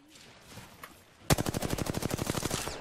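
Rapid automatic gunfire in the Apex Legends video game erupts after a quiet lead-in, a loud, steady burst of evenly spaced shots running to the end.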